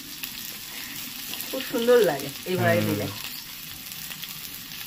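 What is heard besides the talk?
frying cumin and grated ginger in a pan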